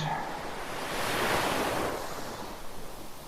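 Ocean surf rushes and washes continuously, a steady broadband wash swelling and easing as waves fold around, with wind noise on the microphone and no speech.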